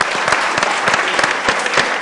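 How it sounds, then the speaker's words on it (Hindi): Cricket fans at an India versus Bangladesh match clap together in a dense, steady burst of applause, close and loud, with individual claps rising briefly out of the crowd noise. "ताली होनी चाहिए मैदान के लिए।"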